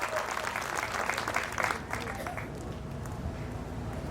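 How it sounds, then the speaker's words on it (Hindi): Steady applause from a crowd at a party workers' conference, a dense patter of many hands going on for several seconds at moderate distance, with a faint voice underneath. "एक बार अपने लिए जोरदार तालियों से स्वागत कीजिए आप सब लोग"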